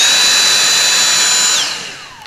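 A cordless power screwdriver drives screws back into a Dyson V6 vacuum, giving one close, steady high-pitched whine that winds down in pitch near the end and then fades out.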